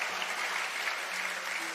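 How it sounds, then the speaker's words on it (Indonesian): An audience at a church sermon claps in steady, even applause that holds at moderate loudness throughout. "Tepuk tangan dong buat saudara."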